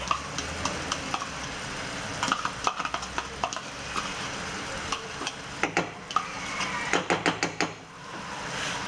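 A spoon stirs a cream and mushroom sauce in a pan, with irregular clacks and scrapes against the metal over a faint simmering sizzle, the taps clustering more quickly toward the end.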